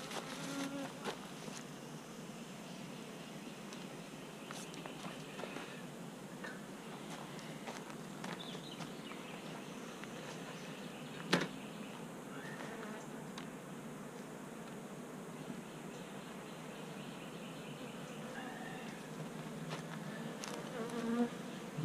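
Honey bees from Georgia buzzing around hive frames, a dense, steady hum close by and continuous, with occasional faint taps and handling clicks.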